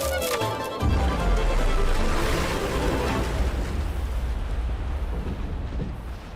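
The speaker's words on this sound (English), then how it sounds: "Tower's gonna blow. Fire in the hole!" A tower blowing up in the Planet Coaster 2 video game: a sudden loud explosive boom followed by a long, rumbling roar of debris that slowly fades over several seconds.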